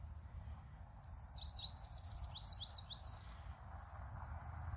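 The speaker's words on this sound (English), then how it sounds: "there's a goldfinch." A goldfinch calls in a reconstructed prairie yard in early August, a quick series of bright, twittering notes lasting about two seconds over faint outdoor ambience.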